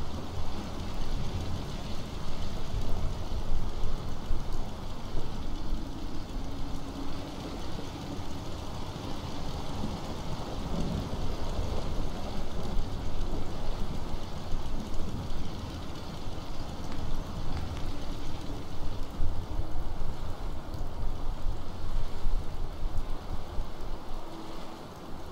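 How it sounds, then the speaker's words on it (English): Rain falls in the game Fallout 4 as a continuous, even hiss of downpour with a low rumbling bed beneath, steady and unbroken from start to finish. "The radioactive rain is coming in."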